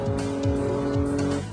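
A Tasman race car screams along a track at high speed, its high-revving engine whining in a sustained tone with brief tire squeal and rising and falling surges.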